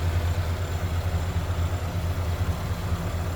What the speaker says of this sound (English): And while I was getting the hood released, it did warm up and came off high idle.